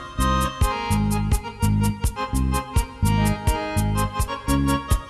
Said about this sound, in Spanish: ahora ya hemos grabado también aquí el bajo, ¿no? Cuando reproducimos sonaría así